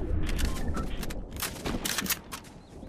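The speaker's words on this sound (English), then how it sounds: "Did I just hear a gunshot or something?" Gunfire in the video game Fortnite: several sharp, cracking bursts land in the second half over a steady, noisy game background, fairly close and loud, with no talking.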